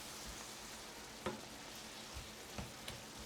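Ground beef and liquid simmering in a pan for sloppy joes, a soft steady sizzle and bubbling with a few faint utensil knocks against the pan, no voice.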